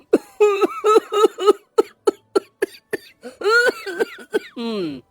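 A man coughs loudly and repeatedly in harsh, throaty bursts, close up, with a strained hacking fit building toward the end.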